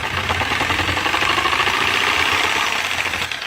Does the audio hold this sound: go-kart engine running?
yes